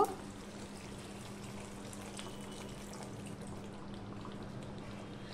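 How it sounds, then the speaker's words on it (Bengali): Water being poured into a simmering pumpkin and potato curry in a pot, a steady, even wash of liquid sound that holds at a constant level for several seconds with no talking. "এবারে এর মধ্যে আমি আর একটু জল দিয়ে দেব।"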